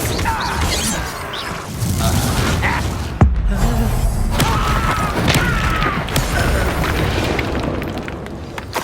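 Confringo fire spell exploding during combat in Hogwarts Legacy, heard as a loud continuous rumbling blast with a sharp impact partway through, amid dense battle effects.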